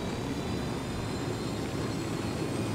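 A helicopter in the video game Ghost Recon Wildlands gives off a steady, loud engine and rotor drone that holds even throughout, with no talking.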